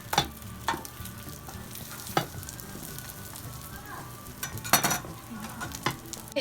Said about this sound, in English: now we're gonna flip the roti